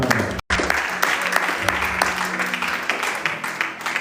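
A church congregation bursts into sustained applause, dense clapping filling the space after a brief pause near the start and continuing steadily throughout.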